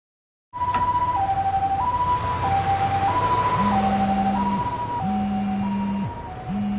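A Lost Judgment video game ambulance siren wails loud and near, alternating in a regular two-tone hi-lo cycle, joined partway by a lower repeating tone, then cutting off near the end.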